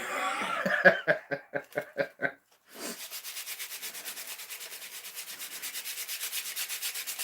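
Wood is sanded by hand in a workshop with a fast, even rasping rhythm of short strokes, preceded by a few louder separate scrapes and a brief pause.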